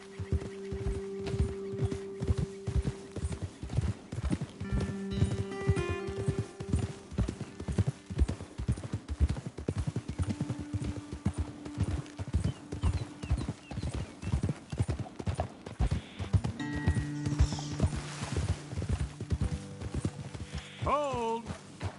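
Horses trot along a trail in Red Dead Redemption 2, their hooves clip-clopping in a steady rhythm, with tack jingling, an occasional snort or whinny and faint game music underneath.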